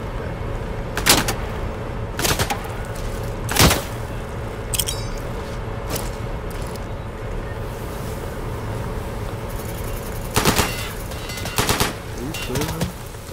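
Gunfire in the video game Insurgency: scattered, sharp single shots and short bursts over a constant low engine-like drone, some shots loud and close, others fainter.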